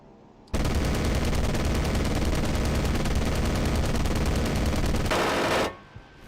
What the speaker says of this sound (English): the DD is firing at me